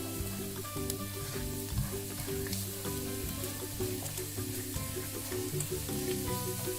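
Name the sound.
onion and pepper sizzling as they sauté in a pan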